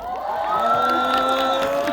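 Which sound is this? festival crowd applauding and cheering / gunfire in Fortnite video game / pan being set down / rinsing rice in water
festival crowd applauding and cheering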